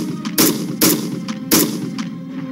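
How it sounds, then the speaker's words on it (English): Three loud, sharp gunfire bangs at roughly even intervals, each followed by a short echoing tail, with faint softer pops between them. "But repeated loud bangs are much more likely to be gunfire."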